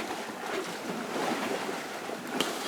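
Ocean waves of the Gulf Stream wash steadily around a sailboat drifting off Cape Canaveral, a soft continuous hiss of water and wind with faint splashes.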